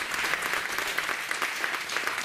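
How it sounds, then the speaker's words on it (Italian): Audience applause at an Italian book presentation event in Modena, a brief continuous patter of many hands clapping at moderate volume. "un applauso alla pressa"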